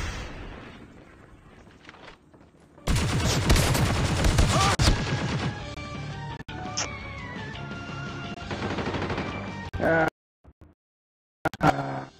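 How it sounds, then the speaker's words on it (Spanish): Rapid bursts of video game gunfire crackle and rattle in dense volleys, with loud sharp shots mixed into a busy, noisy game soundscape before dropping away near the end. "Escuchaba los tiros"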